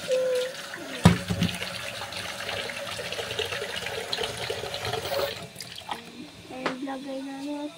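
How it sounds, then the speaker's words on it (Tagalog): Water splashes and pours into a container for making coffee, starting with a sharp knock and then running steadily before trailing off into light clinks, with brief voices in the background. "lagyan muna natin ng tubig"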